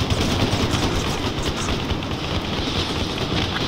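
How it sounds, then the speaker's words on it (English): Sustained heavy machine gun fire in a combat video game, a dense continuous roar of rapid shots with wind-like noise, loud and unbroken throughout. "Heavy fire coming back at us."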